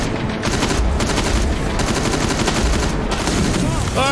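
Sustained video game gunfire, loud repeated shots and bursts filling the whole stretch, with brief voice-like sounds near the end.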